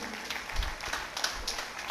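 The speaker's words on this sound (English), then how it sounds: "So I would like all of you to give a very big round of applause for Krishnam Raju" A crowd claps steadily in continuous applause, a dense patter of many hands at moderate distance.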